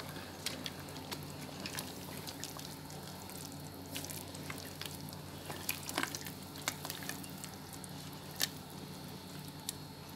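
Tomato sauce frying in a pan for a beef and mixed-vegetable turli casserole, stirred with a steady, soft sizzle and faint scraping clicks, fairly quiet and constant throughout.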